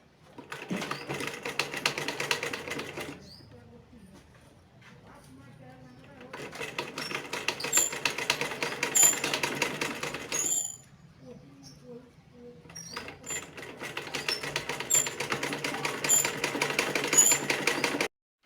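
Sewing machine stitches piping onto a garment neckline in bursts, a fast rattling hum running for a few seconds, pausing, then resuming twice, with a person talking quietly between runs.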